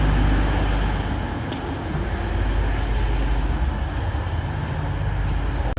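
A new bi-mode Class 810 train running, heard from inside a carriage as a loud, steady low rumble and rolling noise with constant rail and engine drone and no voices.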